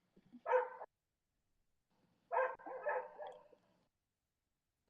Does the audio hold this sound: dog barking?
yes